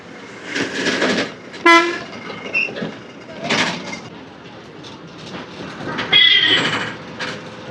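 A train runs near Giddalur railway station. Bursts of rumble and rail clatter rise and fall, broken by a short horn toot, over open outdoor background noise.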